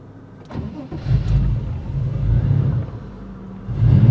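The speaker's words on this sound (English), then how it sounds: "let's start this car" A classic Porsche 911 engine cranks with a short burst, then catches and settles into a steady, loud rumbling idle that swells again toward the end.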